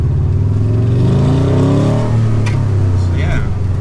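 A Fiat 500 fitted with a 2.5 litre flat-four from a Subaru Legacy revs loudly close by, engine note swelling and falling with throttle blips, and brief voices break in near the end.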